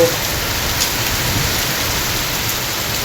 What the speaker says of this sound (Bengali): এ হচ্ছে এত বৃষ্টি জোরে হচ্ছে